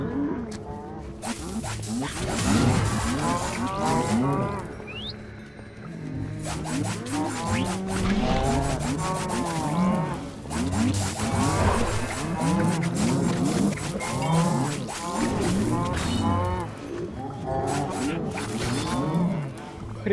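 Cows moo repeatedly in the video game Minecraft Dungeons, the drawn-out calls coming one after another over a steady, busy game backdrop.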